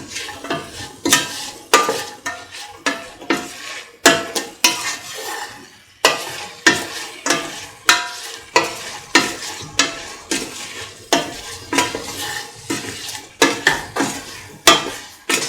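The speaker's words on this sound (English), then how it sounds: "Mix the salt into the mixture thoroughly." Rhythmic scraping strokes of a spoon stirring salt into a lemon and long yard bean rice mixture in a pan, steady repeated sweeps about twice per second, close and clear with no talking.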